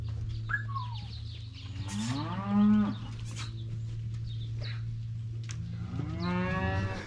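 Cattle in corrals lowing, with several loud drawn-out moos close by and a steady low hum underneath plus a few faint bird chirps.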